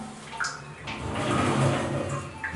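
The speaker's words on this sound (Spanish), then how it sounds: "división de vidrio abriendo correctamente, deslizando correctamente" A glass shower door slides open with a soft rolling rumble lasting a couple of seconds, close by and fairly quiet.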